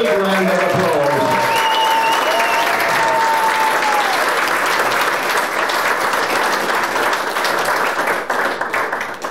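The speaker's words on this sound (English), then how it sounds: "And a real big round of applause." A large audience at an evening presentation breaks into a long, dense round of applause, loud and sustained for several seconds before starting to thin out, with a voice briefly heard at the start.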